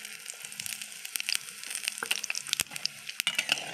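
A bay leaf, three cardamom pods, a dried red chilli and cumin seeds sizzling in hot oil, a close steady hiss with crisp popping crackles, with no voice over it.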